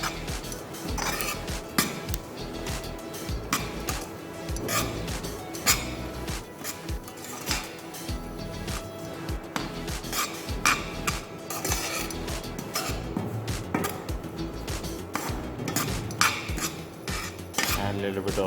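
Desiccated coconut and eggplant for baghaar-e-baingan are stirred in a pan, a busy run of metal spoon scrapes and clanks against the pan over a continuous sizzle, close and loud, with no voices.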